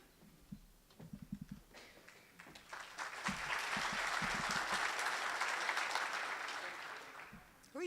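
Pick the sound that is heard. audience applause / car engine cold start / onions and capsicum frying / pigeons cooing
audience applause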